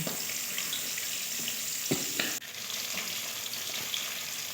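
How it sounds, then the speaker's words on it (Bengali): Bata fish rubbed with salt and turmeric frying in a pan, giving a steady, close sizzle with a few soft stirring knocks and a brief dip midway. "মশলাদার বাটা মাছ ভাজা একটু মশলা দিয়ে বাটা মাছটা ভাজা"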